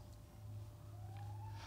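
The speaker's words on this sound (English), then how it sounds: "did you like that siren that went off right there?" An emergency siren sounds faintly from outside during a church sermon, a thin rising wail over a low steady room hum.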